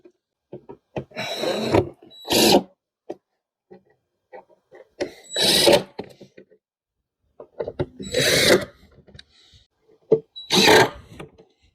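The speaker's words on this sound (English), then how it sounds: "So let's put these screws back in and take it from there." A drill drives screws back into an epoxy table in four separate whirring bursts of about a second each, loud and close, with quiet handling noises between them.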